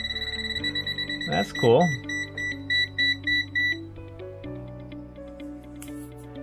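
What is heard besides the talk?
TopTes PT520A gas leak detector beeping at gasoline fumes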